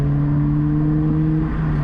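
Lotus Elise R engine droning steadily from inside the car while driving, a loud, even tonal hum with strong low harmonics and no speech.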